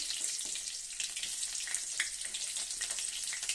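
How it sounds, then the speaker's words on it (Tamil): Mustard seeds and garlic sizzle in hot oil during tempering, making a dense, steady crackle and spatter with scattered louder pops, close and continuous with no voices. "கடுகு போட்டுக்கிட்டேன், கூடவே உள்ளி போடுறேன்"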